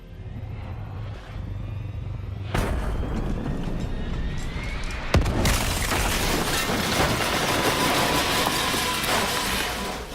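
In Call of Duty: Black Ops III, a downed automated plane blows up in a giant explosion, a sudden loud boom followed by a second blast and a sustained roaring, crackling rumble that fills the remaining seconds.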